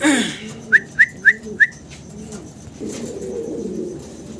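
Fancy Modena pigeons coo softly and low nearby, with four quick, evenly spaced high chirps near the start, then a steady murmur of cooing.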